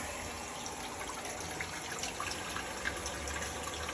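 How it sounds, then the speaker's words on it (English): Water runs steadily through a newly installed inlet valve into a Samsung top-load washer, a faint continuous hiss and trickle with small splashy flickers and no talk. "You should be able to flow the water, and the flow rate is slow enough not to cause an overflow situation."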